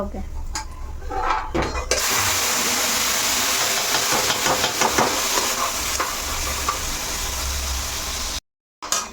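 Tomato and onion paste hits a hot pan with a sudden loud, steady sizzle that holds close and constant after a quieter start with faint stirring, then cuts out briefly near the end before resuming.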